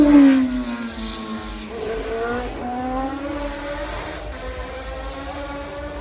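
Race car at the Goodwood Festival of Speed hill climb, a loud engine wail that starts close and sweeps in pitch as it accelerates away, fading slightly with no talk.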